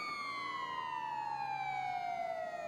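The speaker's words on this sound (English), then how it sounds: "There is a high pitch siren." Police siren in the GTA NoPixel roleplay video game, a single high pitched wail sliding slowly downward, steady and clear without talk over it.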